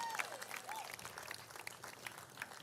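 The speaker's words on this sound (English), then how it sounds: "a round of applause for them again" A crowd applauds at a distance at a women's T20 cricket match between Grenada and St. Lucia, a soft, steady patter of clapping, with a few faint whistles at the start.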